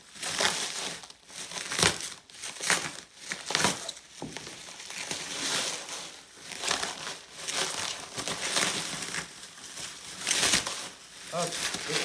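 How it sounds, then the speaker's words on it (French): Bubble wrap being pulled off and unpacked from an airsoft replica package, with repeated close crinkling and rustling bursts of plastic throughout, handled near the microphone. "il y a pas mal de papier bulle"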